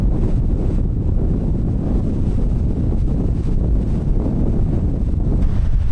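Strong wind in Cappadocia buffets the microphone with a continuous loud roaring rumble, gusting unevenly throughout with no voices.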